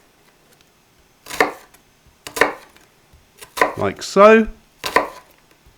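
A knife chops white parts of spring onions thinly on a board for chow mein, sounding as a few separate bursts of quick close cuts, with a short spoken remark in between.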